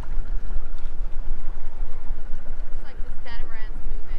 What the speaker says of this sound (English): the wind's kind of coming down off the land here